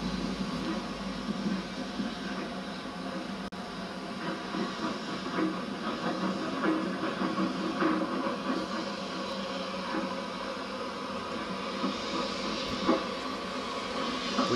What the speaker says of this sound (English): The up train is seen leaving for Bournemouth behind a Merchant Navy Class Pacific.